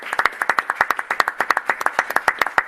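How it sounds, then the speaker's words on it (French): A small conference audience clapping for speakers, with distinct rhythmic hand claps in a close, steady run that stay crisp and evenly loud throughout. "Je voudrais qu'on applaudisse nos intervenants collectivement."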